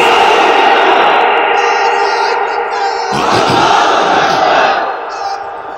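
A large crowd at an outdoor religious gathering on a madrasa field in Sylhet roars a chanted takbir response, a sustained echoing group shout that swells midway and then fades.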